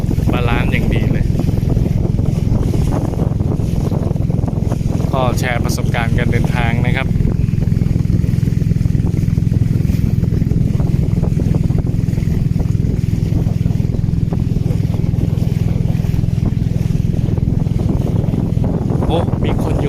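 A longtail boat's engine drones steadily while crossing Songkhla Lake, with wind buffeting and water noise. Someone talks over the constant motor hum early on.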